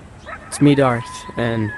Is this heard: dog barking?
yes